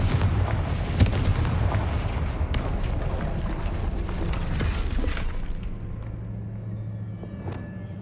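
Spell blasts from a Harry Potter video game burst repeatedly, with heavy booming impacts and crackling debris over a rumbling low bed, loud early and gradually thinning out toward the end.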